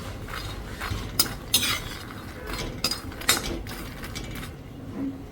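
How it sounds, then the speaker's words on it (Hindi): Makhana (fox nuts) fried and stirred in a pan, with soft sizzling under scraping stirs and occasional sharper clinks of a utensil against the pan, heard close with no talk. "ये मखाने फ्राई कर दूँ आपके लिए"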